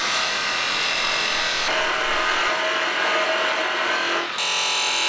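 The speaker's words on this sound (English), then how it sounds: "And cut a tenon for mounting in the chuck." A wood blank spins on a lathe as a tenon is cut to mount it in the chuck, a steady, loud, continuous hiss of the tool scraping wood with slight shifts in tone.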